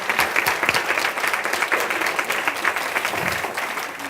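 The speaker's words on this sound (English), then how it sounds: "Give them all a hand, would you please?" Audience applause during a keynote address, a close, lively burst of many hands clapping with uneven individual claps standing out, sustained for about four seconds without speech.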